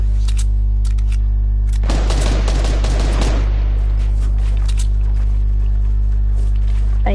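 Dense rapid gunfire in a video game, a loud burst lasting about two seconds over a strong steady hum, with a few scattered clicks afterward.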